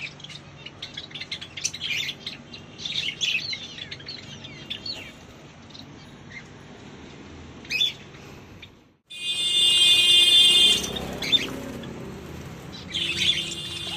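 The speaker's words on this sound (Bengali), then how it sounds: "এরকম ও যা আছে সবই পায়রা" Pigeons kept at home call with chirps and tweets over steady background noise, with a loud burst of bird sound near the end.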